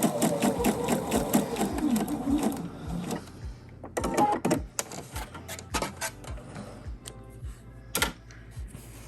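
Sewing machine stitching a standard hem on a garment, running in quick rhythmic bursts of rapid needle clatter, stopping and restarting several times, close up and fairly quiet.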